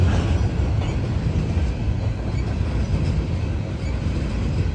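A Norfolk Southern 51Q freight train of more than 120 cars rolls past at Gaffney, South Carolina, a loud, steady, close rumble of wheels and wagons that holds unbroken throughout.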